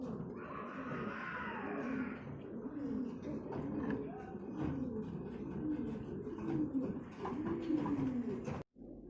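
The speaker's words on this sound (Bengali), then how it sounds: "এখানে এক জোড়া আছে মুহুরেট পায়রা" A pair of Muhuret pigeons, a feather-footed breed, coo steadily and close by, with soft overlapping calls running through a busy, slightly noisy background.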